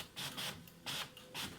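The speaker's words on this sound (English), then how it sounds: "I'm going to print something." An inkjet printer runs a page after its cartridge was cleaned, giving three short rhythmic bursts of mechanical whirring and scraping as the print head passes, quiet and close.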